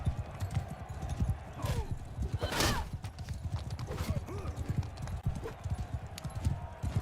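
A horse gallops at speed in the video game Bannerlord, its rapid clip-clop hoofbeats close and continuous, with creaks of tack and brief combat clatter mixed in.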